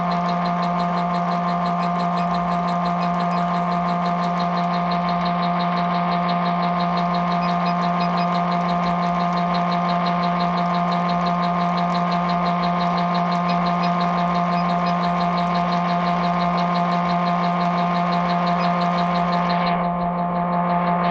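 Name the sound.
Bluewing line winder machine spooling fishing line at 350 RPM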